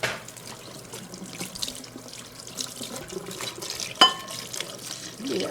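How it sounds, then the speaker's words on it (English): A kitchen knife rinsed under a running tap at a sink, with a steady, moderate stream of water splashing and a brief clink of metal near the end. "I want this one right here. Let me wash it off real quick."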